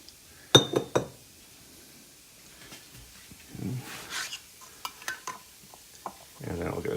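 Maple syrup is transferred into small glass containers, with a few sharp clinks of glass at the start, then quieter pouring and handling sounds and soft knocks.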